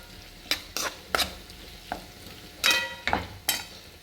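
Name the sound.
gobi manchurian frying in oil on slow gas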